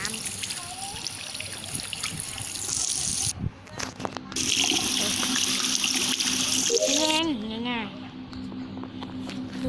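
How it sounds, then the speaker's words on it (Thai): Shower water runs in an Among Us bathroom task, a steady rushing spray that cuts out briefly and resumes, with a voice talking over it throughout. "แล้วมันก็มีเควสที่เราจะต้องอาบน้ำด้วยล่ะ ต้องอาบน้ำ"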